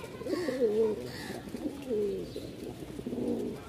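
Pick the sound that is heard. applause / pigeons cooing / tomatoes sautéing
pigeons cooing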